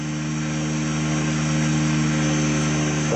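A radio-controlled model helicopter flies slowly in controlled circuits, its rotor and motor giving a loud, steady, close whine and buzz with a constant drone throughout, no talking.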